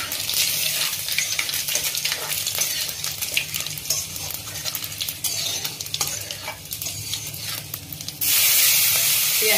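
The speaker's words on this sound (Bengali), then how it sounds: "ওই কড়াইতে, ওই তেলে আমি 5 ফোড়ন দিলাম" Five-spice (panch phoron) seeds fry in hot oil in a wok, giving a steady crackling sizzle with scraping and stirring of a spatula throughout, turning into a louder, denser hiss near the end.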